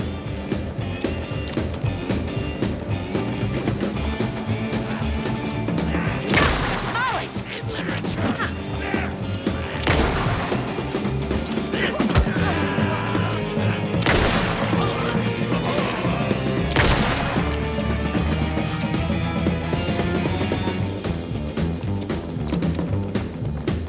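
Gunfire in the video game Alan Wake 2: several sharp, loud shots spaced a few seconds apart, cutting through a dense, constant bed of game ambience and music, with a voice talking faintly.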